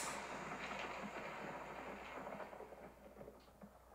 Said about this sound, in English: There was a giant clap of thunder and lightning zigzagged across the sky